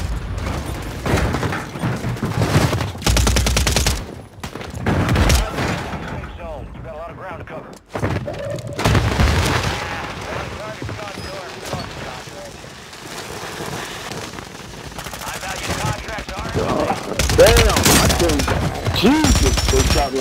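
Gunfire aimed at the player in a shooter game arrives as dense, loud volleys in clustered bursts separated by quieter stretches, with a voice talking at times between them.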